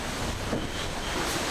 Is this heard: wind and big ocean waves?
yes